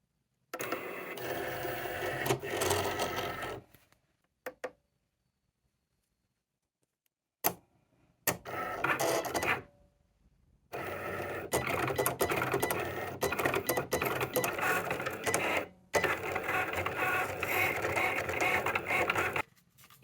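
A Cricut machine cuts leather earring shapes on a mat, giving bursts of whirring, ticking mechanical movement broken by short pauses and near-silent gaps.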